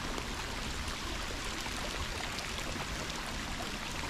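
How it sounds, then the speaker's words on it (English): Steady broadband rush of rainwater streaming downhill on a rainy Kentucky farm, continuous and fairly close, with no voices. "So yeah, plenty of water coming down this way."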